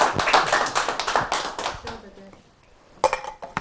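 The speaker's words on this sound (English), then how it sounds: "let's give Jean a round of applause for Jean for coming up first." Audience at a cooking demonstration giving a brief round of applause, a short burst of clapping that fades out within two seconds, followed by quiet and a few faint clinks and talk.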